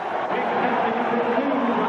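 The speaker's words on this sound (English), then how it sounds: "the crowd appreciates the effort of John Tucker" Ice hockey arena crowd roars in a steady, dense wash of cheering and hubbub, loud and continuous throughout, with no distinct voice standing out.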